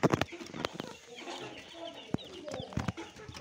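Several Ayam Cemani chicks cluck and chatter softly nearby, with scattered sharp knocks and scratching sounds around them.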